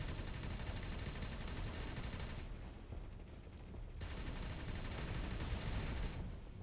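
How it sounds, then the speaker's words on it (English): Ships firing on each other in the space game Avorion, a dense, continuous crackle of rapid gunfire with brief dips in intensity, fairly faint and without voices. "She's just shooting and shooting"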